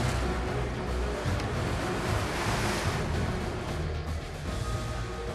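Rough open-sea waves surge continuously around a fishing boat off Indonesia, a loud, dense wash of surf with wind buffeting the microphone throughout and no voices.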